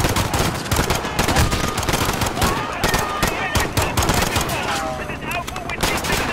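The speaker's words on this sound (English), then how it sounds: "Shots fired." Gunfire from the video game Call of Duty Modern Warfare: dense, loud bursts of automatic fire and rapid single shots, close and continuous, with chaotic battle noise and voices underneath.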